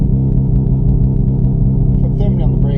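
Launch-control rev from a VW Golf R or Audi S3 sport hatch, a steady loud engine drone building in pitch with traction control off in sport mode, heard from inside the car under a speaking voice.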